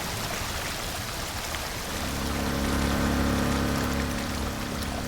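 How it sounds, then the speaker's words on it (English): Water pumped through drains in the video game Drain Sim, flooding a parking garage, rushes and pours in a steady, loud stream that swells midway and carries on without pause. "That's going to pump all of that water directly into there."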